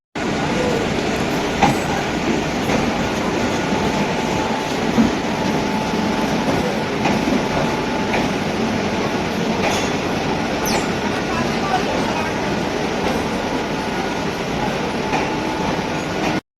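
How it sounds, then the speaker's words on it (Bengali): A local passenger train rumbles steadily and loudly close by, with rhythmic wheel clatter and occasional metallic squeals as it pulls into the station and keeps running. "চলুন ট্রেন প্রায় এসে গেছে"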